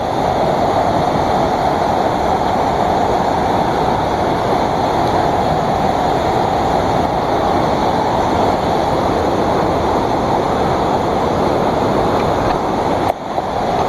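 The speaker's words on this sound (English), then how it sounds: "This is Whitewater River far below the waterfall." Whitewater River rushes far below a waterfall, a loud, unbroken roar of churning water that holds steady throughout.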